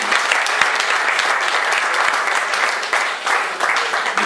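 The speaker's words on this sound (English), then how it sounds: "Let's give you a round of applause." Guests at a dinner party held in someone's honour break into a full round of applause, close and loud, sustained throughout with uneven bursts of individual claps and no talk over it.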